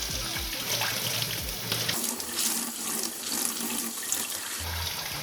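A kitchen tap runs water onto a Scrub Daddy sponge, a steady close hiss and splash with short gurgling changes as the flow hits the sponge, with no voices.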